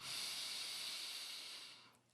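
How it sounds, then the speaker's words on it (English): A slow, deep inhalation comes through as a soft, airy hiss that holds steady for about two seconds, heard close and quiet before tapering off. "And one more deep breath, breathing in."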